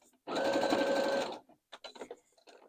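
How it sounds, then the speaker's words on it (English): A sewing machine top stitching a fabric wine bag runs in one steady, close burst of about a second, then stops, and a few soft clicks and handling noises follow. "So our last step is top stitching."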